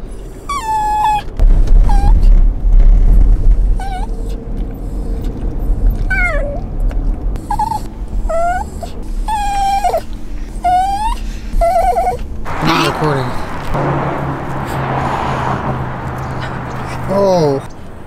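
A dog whines and cries during a car ride, giving a run of high, wavering yelps and squeaky moans, loud and close, over low road rumble, with a burst of breathy, noisier cries near the end.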